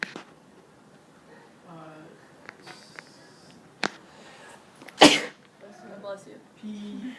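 A single sharp sneeze bursts out loudly amid quiet room sounds and scattered bits of talk.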